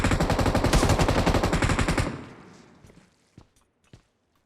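A long, loud, rapid burst of MG3 machine gun fire in a video game, close and continuous for about two seconds, then dying away into a few scattered thuds.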